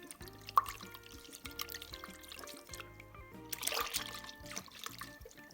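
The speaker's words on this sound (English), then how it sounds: "And now I'm just stirring the two together." Slightly warmed rainwater and molasses are stirred together, giving a soft liquid swishing and trickling that is faint and close, with a brief louder slosh partway through.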